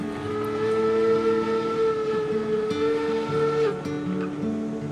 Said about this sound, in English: Blow your whistle, let them know we're here.